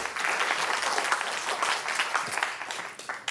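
An audience applauding to welcome a teacher at a new-faculty training workshop, a full, continuous burst of clapping from many people that stays strong before easing slightly at the end.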